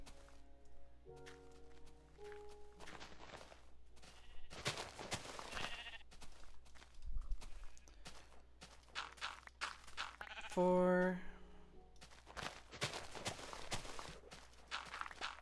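Sheep in Minecraft bleating in short bursts, one clear tonal bleat standing out midway, mixed with blocky footsteps and scattered game sounds over a low steady hum, no talk.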